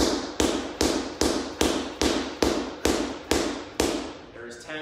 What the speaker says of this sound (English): 10 chest passes into the floor